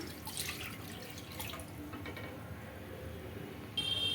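Faint splashing and trickling as water is poured into a pan of rice flour, with dripping sounds. A brief electronic beep or tone appears near the end.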